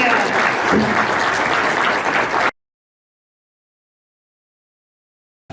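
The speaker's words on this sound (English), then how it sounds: "them a big round of applause" Audience applause for fitness guests at a gaming convention stage show, a loud, dense burst of clapping lasting a couple of seconds before cutting to silence, with a brief return of noise at the very end.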